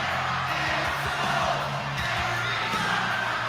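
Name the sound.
wrestling arena crowd cheering for Cody Rhodes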